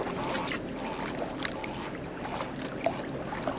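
Kayak paddling through calm water around Cap Sante in the San Juan Islands, with soft continuous water wash and faint paddle splashes, close and gentle throughout.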